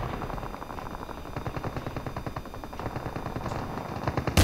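Rapid automatic gunfire from the video game Call of Duty Mobile rattles in long, even bursts, moderately loud and alone, with a sharp louder crack at the very end.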